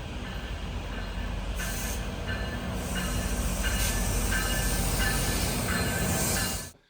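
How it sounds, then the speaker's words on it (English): A GO train rolls steadily into a Toronto platform at close range with a continuous rumble and rhythmic clatter of wheels over rail joints, then fades out at the end. "just seemed to coincide with the GO train coming into the platform"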